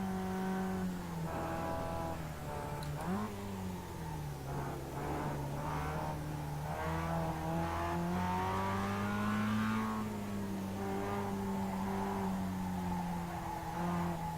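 A small Mazda Miata laps Okayama circuit, its engine droning steadily near and loud, with rising and falling revs through gear changes and throttle lifts, no talk over it.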